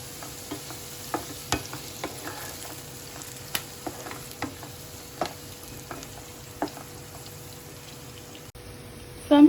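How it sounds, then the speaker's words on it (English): Chopped onions and capsicum stir-fry in a hot pan, a soft continuous sizzle broken by scattered light taps and scrapes of a spatula, ending in a sudden louder clatter. "Now I'm going to add some capsicum."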